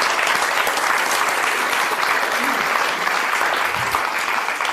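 A conference audience at a university keynote cheering and applauding for Tony, a dense, loud, continuous wash of clapping from many hands that holds steady throughout.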